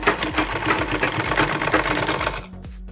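A sewing machine stitching a zipper onto a winter jacket runs in a steady, fast mechanical chatter, loud and close, then stops abruptly near the end.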